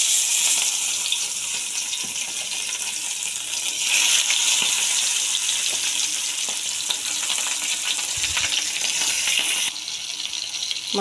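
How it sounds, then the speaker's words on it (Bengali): Small meni fish fry in hot oil in a home kitchen, giving a loud, continuous, close-up sizzle that holds steady throughout with faint crackles and no talking. "এখন আমি মাছগুলো ভেজে নেব"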